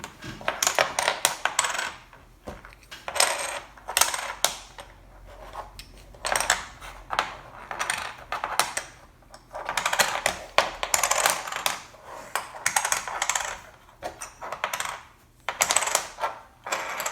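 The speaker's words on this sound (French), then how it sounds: "Donc là, on va tout retourner et on va regarder." Pieces of the Goliath board game Les Zoeils are turned over one after another on a table, making irregular bursts of light clicking and clattering with brief pauses and no talking.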